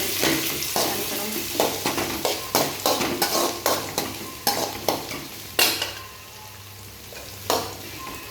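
Medium-cut onions sautéing in a pan with cinnamon and fennel for a chicken dish, a soft sizzle under repeated sharp scrapes and knocks of a spoon stirring, close and irregular, ending in a quieter stretch of frying.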